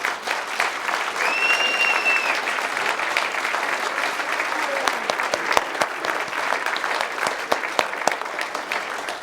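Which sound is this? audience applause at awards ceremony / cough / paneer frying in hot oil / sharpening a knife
audience applause at awards ceremony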